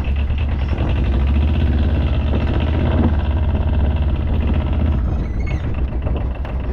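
A military diesel ATV drives across a pasture, its engine giving a steady, loud low rumble with a constant drone throughout and no talk over it.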